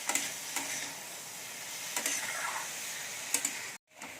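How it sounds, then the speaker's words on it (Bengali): Spices lightly fried in a pan for chicken kofta curry, a quiet low sizzle broken by several sharp spoon scrapes and clicks, then a brief moment of silence near the end. "মশলাগুলো একটু হালকা করে ভেজে নেব।"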